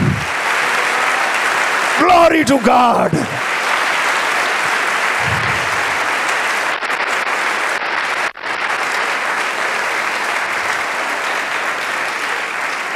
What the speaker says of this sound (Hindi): मेरा दिल चाहता है जिंदा यीशु के लिए जोरदार ताली